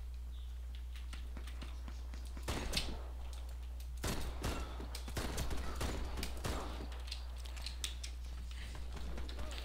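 Mateba autorevolver firing in the online shooter Warface, several sharp, separate gunshot cracks spread unevenly over a low steady hum, with softer clicks between them, fairly quiet overall.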